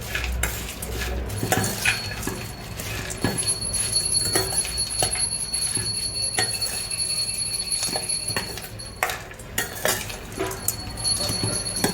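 Metal spoon scraping and clinking against a bowl while sev, namkeen and puffed rice snacks are mixed, with repeated irregular clinks and rustles close up and one brief high ringing tone partway through.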